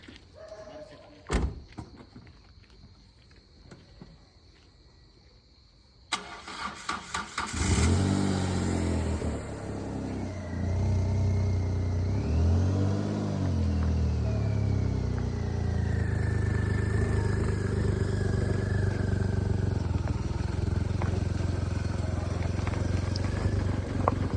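A car sets off on a rough, damaged village road between Sarole Thadi and Nandur in Niphad taluka, with a door thud, then the engine starting and a steady close rumble with revving under occasional talk.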